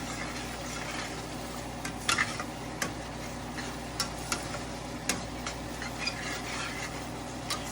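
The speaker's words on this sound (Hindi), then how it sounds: "अभी इसे थोड़ा भूनेंगे" Spiced food is being fried (bhuna) in a pan with a soft, steady sizzle, while a utensil stirring against the pan gives a series of quiet, irregular clicks and taps up close.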